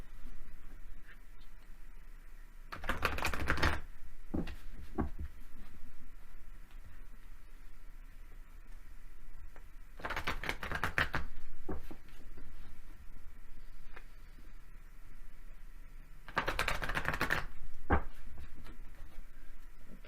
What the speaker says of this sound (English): I'm going to shuffle this deck while you think about a question